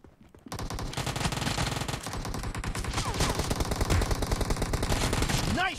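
Rapid, continuous automatic gunfire from the mobile battle royale game PUBG Mobile, loud and dense for several seconds, with a few voices faintly underneath.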